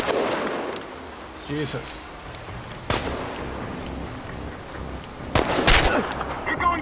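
Several sharp gunshots crack at close range in the survival shooter Chernobylite, scattered irregularly over a dull ambient background, with a man briefly exclaiming between the shots.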